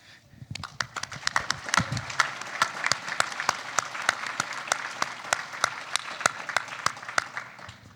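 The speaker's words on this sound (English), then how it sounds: "please stand up for a round of applause" Audience applause for veterans and spouses standing at a small-business financing event, a dense run of clapping that builds and holds steady with sharp individual claps standing out near the front.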